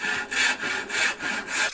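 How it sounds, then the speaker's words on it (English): A handsaw cuts through the joint between walnut table legs and aprons, giving close, steady back-and-forth rasping strokes in an even rhythm. "I'll separate the legs from the aprons with a handsaw"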